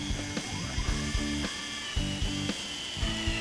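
Power drill driving screws into 2x4 lumber for a homemade bean bag toss board, with short repeated bursts of whirring motor and ratcheting clutch clicks, close and fairly loud.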